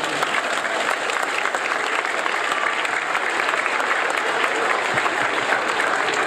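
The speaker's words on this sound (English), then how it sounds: "Could we have a round of applause for them?" An audience at an elementary school dedication ceremony applauds third graders, a loud and sustained round of clapping that stays even from start to finish.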